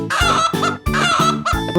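A cartoon chicken clucks in quick, loud, close squawks, three short bursts in a row with a harmonic, voice-like tone.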